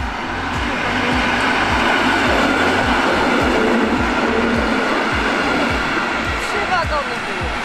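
A short train of three wagons passes close by on railway tracks, a loud, steady rumble broken by a fast rhythmic clickety-clack of wheels over rail joints for the whole stretch.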